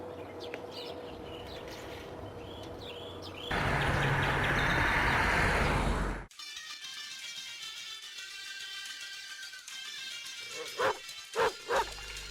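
Several sharp dog barks ring out near the end, following background chatter, birdsong and a stretch of loud rushing noise.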